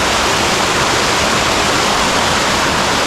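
Mountain waterfall in the Carpathians, heard up close as a loud, unbroken broadband roar of rushing water that stays constant throughout and cuts off abruptly at the end.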